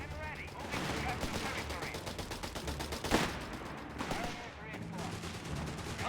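Rapid gunfire and machine gun bursts crackle continuously in a Company of Heroes battle, with a sharp louder shot near the middle and game voices speaking over the fire.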